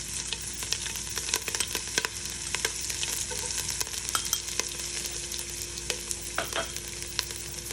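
Finely cut green chilies frying in a pan for upama while being stirred: a dense, close sizzle with frequent sharp crackles and pops, and irregular spatula scrapes and clicks running through the whole stretch.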